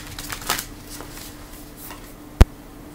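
Tarot cards riffle and flutter in a short, soft shuffle up close, followed by a single sharp snap as a card is drawn.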